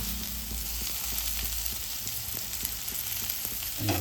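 Garlic frying in a pan for a traditional village vegetable dish of wild seasonal pods, a soft steady sizzle close by with light stirring, no voices.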